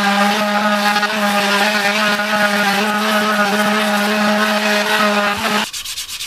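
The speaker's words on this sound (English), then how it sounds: "I'm grinding away at the wheel" A motorcycle front wheel is ground down during a Ninja restoration, giving a steady, close tool whine with a strong tone that holds evenly and then cuts off near the end, leaving a lower rumble.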